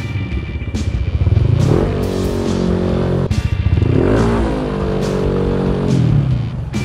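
A Yamaha NMAX V2 scooter with a 177cc engine revs hard on test, rising and falling through two loud climbs in pitch with a steady idle clatter between them and no talk.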